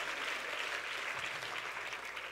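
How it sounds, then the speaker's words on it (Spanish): Applause from a church congregation during a sermon, a steady dense wash of clapping at moderate distance that holds evenly for a couple of seconds without talk. "Si usted quiere aplauda y si no está bien, usted no tiene que aplaudir"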